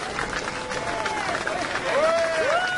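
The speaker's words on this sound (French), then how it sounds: "Si les deux concurrents veulent bien monter sur scène, s'il vous plaît, on les applaudit bien fort." Audience applauding two contestants called onto a stage at a French competition, steady broadband clapping throughout with a voice and some whistle-like tones over it.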